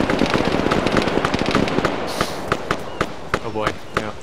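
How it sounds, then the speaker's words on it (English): Gunfire in the military shooter game Arma 3: rapid bursts of sharp cracks give way to spaced single shots and distant reports, with players talking over the firing. "There's some fighting over this way. There's some gunfire."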